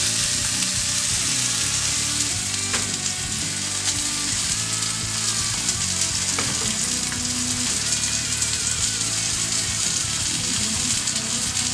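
Button mushrooms sizzle steadily in a hot pan, a close, even frying hiss with faint crackles and occasional stirring clicks, running continuously with no voices.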